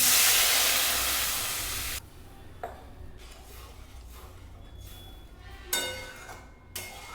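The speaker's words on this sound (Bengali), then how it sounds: "এবারে আমি পরিমাণ মতো জল দিয়ে দেব" Water pours into a pan of fish curry on the stove, a loud steady hissing gush that fades and stops, followed by quieter kitchen clinks and small knocks.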